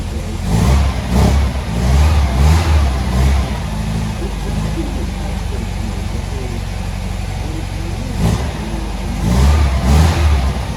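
A 1965 MGB's deep, rumbling engine idles and revs in pulses, with throaty surges rising and falling over a steady growl.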